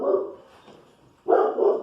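A dog barks nearby, two loud, full barks separated by a quiet pause, with no voices over them.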